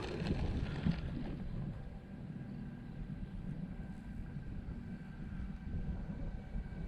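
A tractor engine in a flying video game drones steady and low, rumbling continuously with a faint wind-like hiss over it, even and unbroken throughout.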